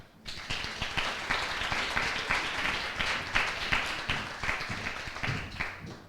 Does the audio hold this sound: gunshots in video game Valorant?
no